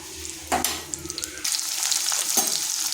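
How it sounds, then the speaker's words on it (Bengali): Whole cumin seeds sizzle and crackle in hot oil in a kadai, a steady bright frying hiss with a few sharper pops and stirring scrapes, close and fairly loud throughout. "कड़ाईते दिए दिलाम तेल, दिচ্ছি गोटा जिरा"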